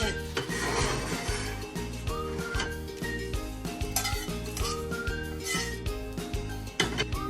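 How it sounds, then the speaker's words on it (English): Cooked scrambled egg is moved from the pan onto a plate, giving steady clattering and scraping of cookware and utensils that continues throughout, fairly loud and close, with no talking. "turn off the stove and put it to the plate."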